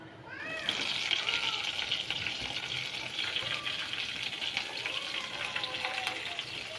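Green chillies drop into hot oil already tempered with cumin, salt and a pinch of asafoetida, giving a steady close sizzle and crackle that runs throughout, with a few higher chirps over the frying.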